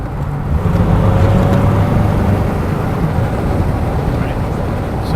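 A vintage Model T Ford pulls away with a steady, loud, low engine rumble and rolling drone throughout, with wind buffeting the microphone and people speaking over the engine.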